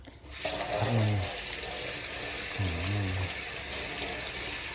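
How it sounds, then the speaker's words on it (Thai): Tap water runs steadily into a sink while hands are washed, a constant splashing hiss with no talk over it. "เดี๋ยวขอล้างมืออีกทีนึงนะครับ"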